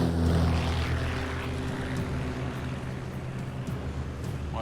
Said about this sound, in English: Showing the plane again.